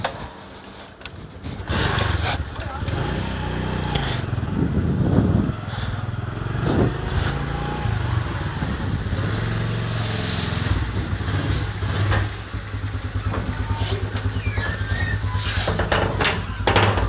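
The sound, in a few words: motorcycle engine running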